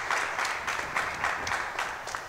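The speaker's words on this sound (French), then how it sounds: "un tonnerre d'applaudissements." An audience at an award ceremony applauds with a dense, steady patter of many hands at moderate distance. The sound is fairly soft, with no speech over it.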